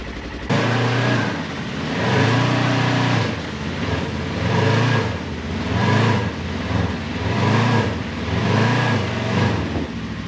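A Polaris General 1000 side-by-side engine runs close by, its loud throbbing drone rising and falling in regular surges for about ten seconds, with no voices over it.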